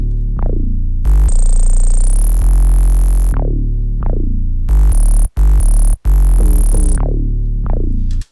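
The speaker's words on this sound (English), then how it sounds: "When you take all the 808s together, they sound something like this." Three layered 808 basses play a new jazz beat pattern, with deep sustained booming notes that slide in pitch, separated by short gaps and sharp cut-offs, loud and dry with no talking.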